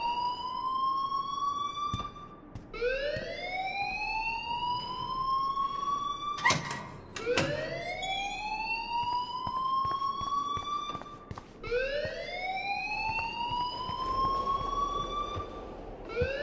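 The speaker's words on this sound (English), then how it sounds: "please turn off that alarm since that's your job" A rising-and-falling wail of an electronic fire alarm blares in the video game Life is Strange, sweeping upward in three repeated cycles, loud and continuous, with a few sharp clatters in the middle.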